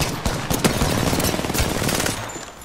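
Gunfire in a video game, loud rapid automatic bursts rattling continuously with sharp individual shots standing out, tapering slightly at the end.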